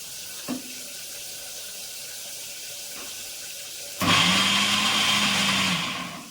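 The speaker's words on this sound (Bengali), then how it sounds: "এটা মিক্সচার মেশিনে আমি গোছ করে দিয়েছি।" An electric mixer grinder starts up after a few quiet seconds with faint clicks and roars loudly for about two seconds while blending a spice paste for a cauliflower fish curry, then cuts off.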